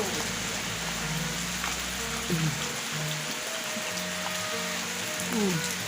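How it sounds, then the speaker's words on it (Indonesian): Rain falls as a steady broadband hiss with a constant wash of drops. It is fairly loud and continuous throughout, with faint tonal hums and chirps underneath and no speech. "Hujan."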